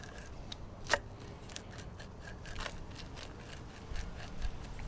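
A homemade pizza being cut, with a sharp snip near the start followed by a few softer crunching cuts through the crust, close and quiet, no speech.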